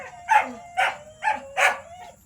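A dog barks four times in quick succession, loud and close, each bark a short sharp yelp with a whiny edge, separated by brief pauses over a quiet background.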